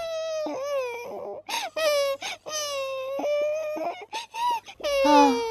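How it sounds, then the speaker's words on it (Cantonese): A baby cries in long, wavering wails broken by short gasping pauses, loud and close, rising into a sharper sob at the end. "係 BB 嘅喊聲啊！"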